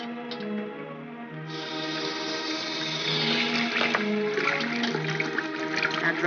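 Tap water runs steadily over a hand at a sink, a soft continuous splash and hiss that swells after the first second, with orchestral music playing throughout.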